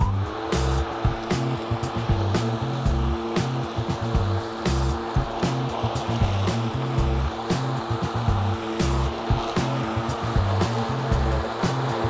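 Metabo cordless lawn mower set at a raised cutting height runs continuously while mulching short grass, a loud close whirring drone with a rhythmic, pulsing texture throughout and no pauses.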